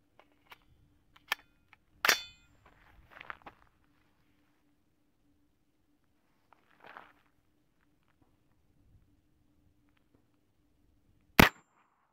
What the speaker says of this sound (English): All right, last shots. Here's the AR-9 from Hard at Arms.